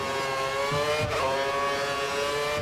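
A Formula 1 car engine in F1 2013 screams at high revs on the Canada circuit, its pitch dipping briefly around a shift or corner before climbing again, loud and close throughout with no talk.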